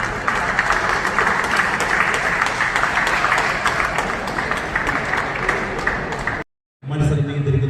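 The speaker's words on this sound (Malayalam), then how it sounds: "ഈ വാശിയേറിയ മത്സരം കാണുന്ന എല്ലാ കാണികളും ഒന്ന് കൈയടിച്ച് പ്രോത്സാഹിപ്പിക്കുക" A crowd applauds at a women's arm-wrestling competition, giving steady, dense clapping that fills the hall, with voices mixed in. The clapping breaks off abruptly near the end and then resumes.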